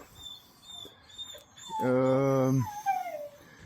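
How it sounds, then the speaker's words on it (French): A sled dog gives one drawn-out, high whimpering whine that bends downward as it fades, standing out clearly from quieter background noise outdoors at nightfall in the Marne countryside after a long rest. "Les chiens semblent encore en vouloir en découdre."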